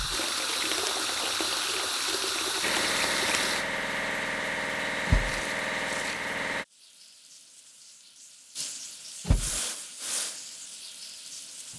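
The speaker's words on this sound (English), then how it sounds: "Let's wash the locomotive." Steady rushing spray of water washing a locomotive over a running engine hum, stopping abruptly, then quieter hiss with a couple of brief thumps.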